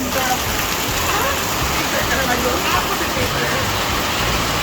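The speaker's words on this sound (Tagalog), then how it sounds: "Grabe ang ulan." Heavy rain pours steadily during a typhoon, a dense continuous hiss close by with faint voices under it.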